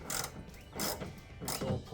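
Ratchet snugging up bolts on a 2010 Dodge Avenger, three short, quiet bursts of clicking separated by brief pauses.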